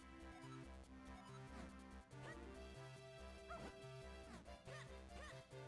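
A video game dog from The Legend of Zelda: The Minish Cap barks in short repeated yips over looping game music, several quick barks spread across the stretch, fairly quiet overall.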